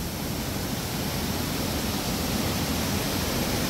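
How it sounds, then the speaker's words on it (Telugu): Umkrem waterfall, on the route to Dawki, roars as a dense, steady rush of falling water, loud and close, with no other sound on top. "ఉమ్క్రేమ్ వాటర్ ఫాల్స్, దీని పేరు ఉమ్క్రేమ్"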